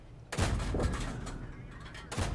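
Gunfire in a tactical shooter game, a loud close burst of overlapping shots lasting nearly two seconds, then a pause before another shot begins.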